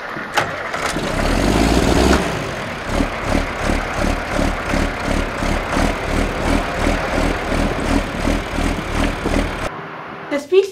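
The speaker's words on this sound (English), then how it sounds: "The FFA held their annual Drive Your Tractor to School Day" Tractors driven to school by FFA students, an engine cranking and catching near the start, then a rhythmic chugging idle with regular pulses that runs steadily for several seconds before cutting off.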